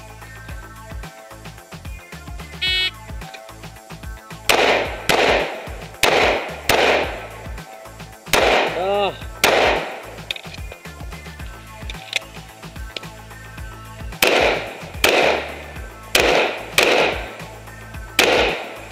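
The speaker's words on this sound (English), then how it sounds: "you're gonna re-engage each target with two rounds from the opposite side of the barricade" Pistol shots fired during an IDPA classifier stage around a barricade, crisp loud cracks in quick pairs and clusters with short pauses between strings, close and alone with no talk.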